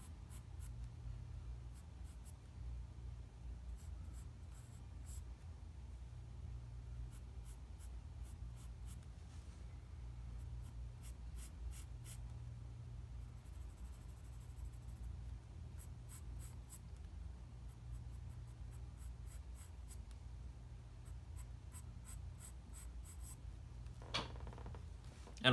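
A white pencil scratches and rubs across paper while texturing a drawing of a wood ellipsoid, in steady short strokes with brief pauses, close and soft throughout.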